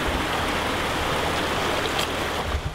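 A mountain stream rushes through a rocky gorge in Coire Eilde, a steady, close, broadband roar of flowing water with no voices.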